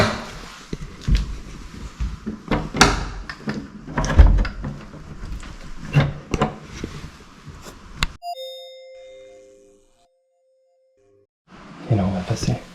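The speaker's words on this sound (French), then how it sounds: "Je vais refermer la porte." A door in a house is pushed shut among shuffling and handling noises, then a latch clicks and a ringing metallic tone fades into silence before movement resumes; a voice speaks during the earlier part.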